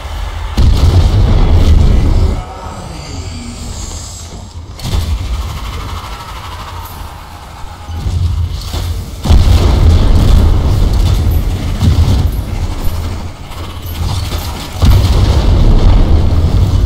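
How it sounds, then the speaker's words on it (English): Grenade explosions in the Strange Brigade game, several heavy booming blasts with deep rumbling tails, loud and spaced a few seconds apart, with no talking. "Grenade"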